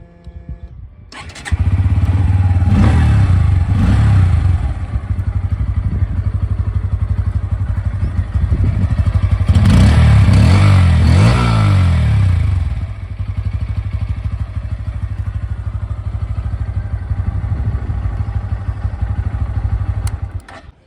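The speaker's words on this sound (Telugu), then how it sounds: "ఇప్పుడైతే పల్సర్ N160 స్టార్ట్ చేసి సౌండ్ బీట్ అయితే విందాం." A Bajaj Pulsar N160 motorcycle starts up, then idles with a steady, throbbing low beat, revving up twice in short bursts before dropping back to a smooth idle, close and loud.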